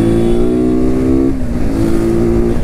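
A vehicle's engine drones and revs steadily close by during a Sunday motorcycle ride, its pitch dipping and climbing as it speeds away down the road, loud and continuous with no talking.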